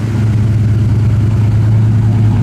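A 1980 Chevrolet Camaro Z28 with dual exhaust runs close by, a steady low engine rumble holding at a fast idle with a light throttle blip and no pauses.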